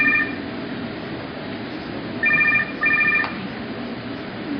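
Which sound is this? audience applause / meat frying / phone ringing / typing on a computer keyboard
phone ringing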